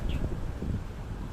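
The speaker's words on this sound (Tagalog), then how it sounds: "And mahangin lang siya" Steady wind blowing across the microphone in a garden in Intramuros, Manila, a constant rushing noise with faint rustling, no voices.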